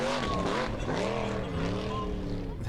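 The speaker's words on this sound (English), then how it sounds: "This car is fast during the time attacks." Skúli Kristjánsson's Formula Offroad car roars through a time attack run in Akureyri, Iceland, its engine loud and revving hard with sweeping pitch changes as it climbs and shifts.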